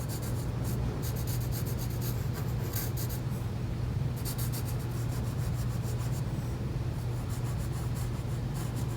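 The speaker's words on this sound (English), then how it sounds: "And we're drawing lightly, we're taking our time." Pencil lightly drawing on paper during an observational art lesson, a steady soft scratching and rubbing with short bursts of stroke texture, close and continuous with no talk.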